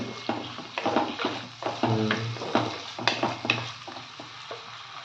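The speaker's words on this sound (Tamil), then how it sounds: "கருவேப்பிலை நல்லா வதக்கணும். நல்லா வதக்கிட்டு" Curry leaves sautéed in a pan for a traditional fish kuzhambu: a soft sizzle under repeated stirring and scraping strokes, close up and uneven in rhythm, with no one talking.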